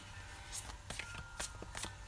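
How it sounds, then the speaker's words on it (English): A small pink foil tarot deck being shuffled, its cards riffling in several short, crisp bursts of papery flutter, close and fairly quiet against a soft background hum. "Such a nice little deck. So let's see. Let's give it a little shuffle."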